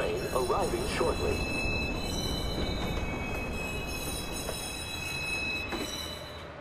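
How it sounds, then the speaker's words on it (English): In the Watch Dogs video game, a train rolls into a station with a continuous rumble and thin high squealing tones, while a voice speaks briefly near the start. "Northbound train arriving shortly."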